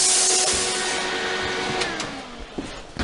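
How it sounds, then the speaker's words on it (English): Air from a plasma cutter's timed post flow rushes out in a steady loud hiss after a cut on metal stock in a workshop, slowly fading over a few seconds with a few faint clicks near the end. "And you hear that timed post flow. That's the air rushing right now."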